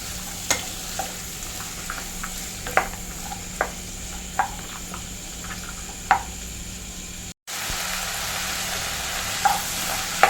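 Onions frying in a pan for idli upma, steady sizzle throughout with spoon knocks and scrapes of stirring at irregular intervals, a brief cut of silence near the end, no talking.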